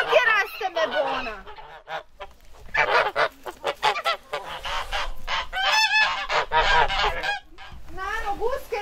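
Farm geese on Vlašić honk loudly and repeatedly at close range, a dense run of harsh, overlapping calls with only brief gaps.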